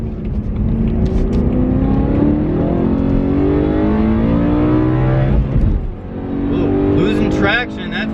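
A BMW M5 drives past, its engine a steady, close, loud drone that rises and swells as it goes by. Someone talks continuously over the sound from inside another moving car.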